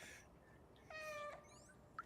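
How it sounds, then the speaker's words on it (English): A cat character in the video game Stray lets out a single clear meow, close and fairly loud, with a short chirp near the end and no talking. "You can choose to meow."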